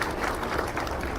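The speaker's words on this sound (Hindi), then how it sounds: "सबके लिए ताली बजा दी।" An audience claps together at a campaign office inauguration for Mahayuti candidate Sanjay Shirsat in Aurangabad, giving a dense, steady burst of applause that holds at an even level throughout.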